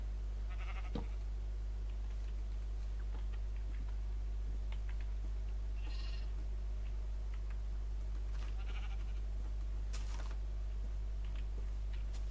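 Sheep bleating in the Minecraft survival game, a few short calls scattered across the clip over a steady low hum, with no talking.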